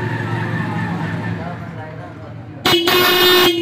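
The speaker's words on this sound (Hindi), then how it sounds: "इसकी भी देखें इस हॉर्न की आवाज़ ठीक है।" A repaired vehicle horn sounding one loud, blaring honk near the end, following a stretch of someone speaking over low background noise.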